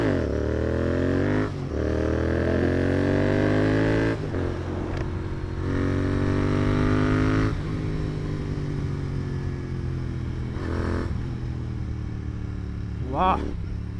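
Royal Enfield Continental GT 650 motorcycle being revved hard for a wheelie, loud nearby engine climbing in repeated surges with brief drops between throttle blips, alone with no talk.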